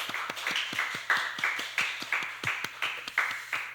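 Church congregation clapping together at a service, a quick steady rhythm of claps, moderately loud and fairly close, with no one speaking.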